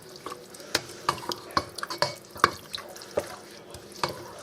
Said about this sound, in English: This can of mushrooms going in